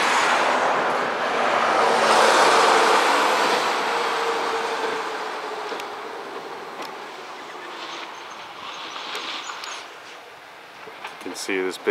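A large truck drives past outdoors in an open area where flocks of birds gather, a broad rumbling wash that swells near the start and slowly fades away, with a person talking over it.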